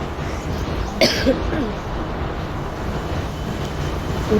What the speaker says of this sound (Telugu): సేమ్ కొంచెం వందే భారత్లా ఉంది కదా ట్రైన్